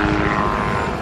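A helicopter flies close by, a loud, dense rotor and engine roar that holds steady across the whole short stretch.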